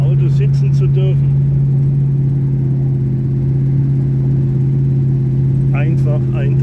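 Steady low engine drone and road hum fill a car cabin while driving, constant and close throughout, with a person speaking briefly at the start and again near the end.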